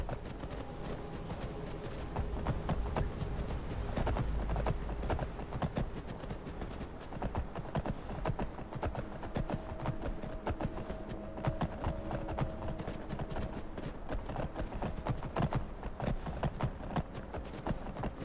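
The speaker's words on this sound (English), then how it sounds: "Sprinting downhill on a horse on snowy ledges like this is probably not the safest thing." Horse hooves clip-clop in a fast, steady gallop down snowy hillside ledges in the Skyrim video game, continuous rhythmic hoofbeats with faint background game ambience and no talk.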